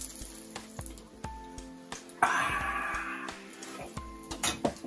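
Scallops frying in a hot pan for a scallop, black pudding and bacon salad, a soft steady sizzle with brief clatters of a metal utensil and a louder burst of hissing midway.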